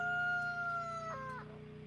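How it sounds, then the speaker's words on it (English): A rooster outside a window gives a single long crow, faint and distant-sounding, trailing into a lower tail over a steady background hum. "It's my chicken. It's my fucking chicken outside the window."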